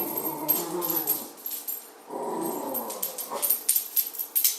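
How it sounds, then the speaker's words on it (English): A dog whimpers and gives short yips and growly barks, fairly close, in uneven bursts with brief pauses between. "No, don't even start barking."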